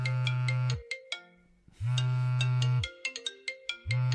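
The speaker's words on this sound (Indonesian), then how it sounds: "Telepon penting masuk." A mobile phone rings with an incoming call, playing a loud melodic electronic ringtone whose short bright chime phrases repeat over a steady low bass pulse, heard alone and close without any talking.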